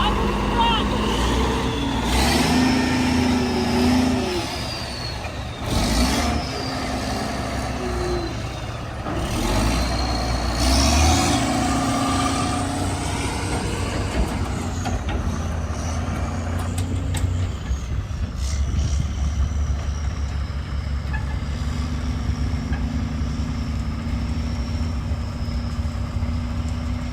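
A semi truck stuck in a field on the first day of harvest roars under load, its loud engine droning and surging through long stretches, with brief air-brake hisses and someone talking over it.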